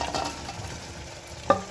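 A curd and onion mixture for soya meat biryani cooking in a pan, giving a soft, steady sizzle and bubbling, with a light stir and a brief utensil clink near the end.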